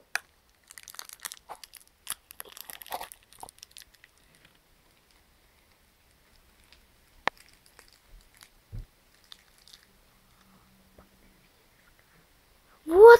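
A crinkly plastic Shopkins toy package is torn open, giving a few seconds of close, brisk rustling and crackling, followed by long quiet stretches with occasional small taps and handling sounds.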